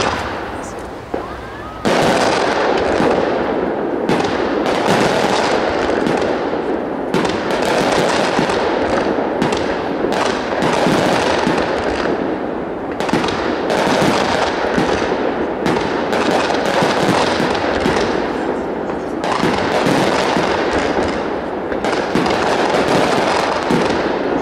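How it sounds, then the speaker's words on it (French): Fireworks display at the Grand Feu de Saint-Cloud firing pot-à-feu candles and calibre 60 shells, a loud dense barrage of rapid bursts, crackles and booms continuing for the whole stretch after a brief quieter start. "Ce sont des chandelles pot à feu et des chandelles calibre 60 bombes."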